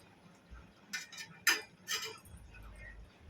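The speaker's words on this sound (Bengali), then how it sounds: "ভালো করে এটাকে হাঁটিয়ে নেবো আর চিনিটাকে গুলে নেব" A spoon stirs sugar into dhokla batter in a bowl, giving a few faint, light clinks and scrapes spaced over a quiet background.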